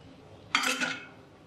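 A spoon clinks once against a bowl as mashed potatoes go in, one short bright metallic strike with a brief ring, close and otherwise quiet.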